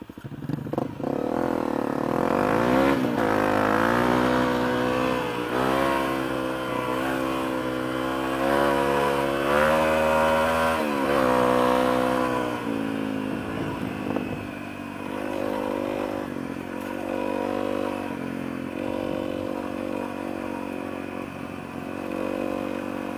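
A Honda Grom or CRF250L motorcycle revs and labors on an off-road trail, the engine loud and close, rising and falling in pitch through throttle changes, with rattling and scraping underneath.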